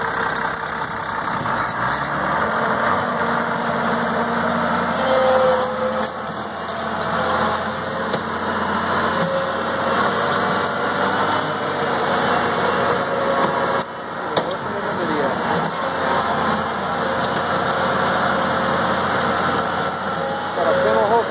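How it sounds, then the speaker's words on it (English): The Mitsubishi turbo diesel engine of an S40 off-road truck idles with a steady low rumble and a mechanical clatter, loud and close. "Got a Mitsubishi turbo diesel engine, and it runs and operates"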